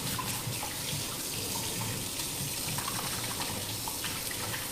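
Tap water runs steadily into a kitchen sink while hands are washed during preparation of a strawberry and white chocolate icebox cake, a continuous close hiss with no talk.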